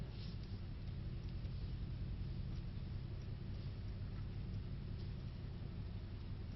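Steady low engine rumble from a Mercedes-AMG C63 S, heard from inside the car as a continuous, even drone with no distinct revs or peaks, and no talking.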